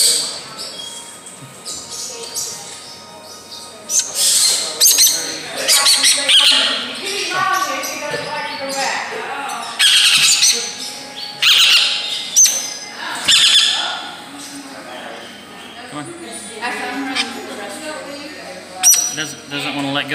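Parrots squawk and chirp at a parrot attraction in Pigeon Forge, Tennessee, with repeated bright calls over steady crowd noise and nearby talking.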